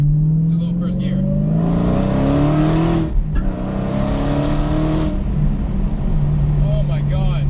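A 2016 Dodge Challenger Hellcat with a six-speed manual accelerates hard in first gear, its loud supercharged engine rising in pitch in surging pulls with a brief break for a shift, heard close from inside the car.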